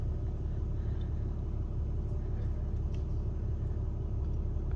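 Steady, loud low rumble of a car driving at night near Glacier National Park, constant road and engine noise from inside the vehicle with no voices.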